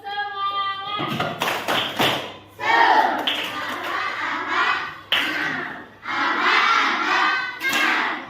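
A group does a rhythmic tepuk semangat clap, with bursts of quick patterned claps mixed with loud chanting voices in a classroom-like setting.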